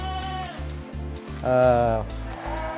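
A Saanen dairy goat on a breeding farm lets out a loud, wavering bleat midway, with fainter bleats around it over a steady low mechanical hum.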